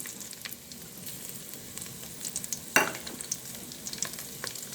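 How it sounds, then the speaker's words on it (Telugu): Dry red chillies and garlic cloves sizzle in hot oil in a vessel, a soft steady crackle with one sharp louder spit midway and light stirring clicks, no talk. "ఆయిల్ వేడైంది ఎండుమిర్చి వేసుకున్నాను ఎండుమిరపకాయలు వెల్లుల్లి రెబ్బలు"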